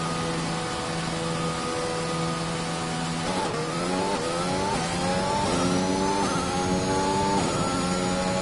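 Formula 1 race car in the F1 2021 game pulls out of the pit stop with a loud, steady engine whine that climbs in pitch through a series of quick gear shifts. No one speaks.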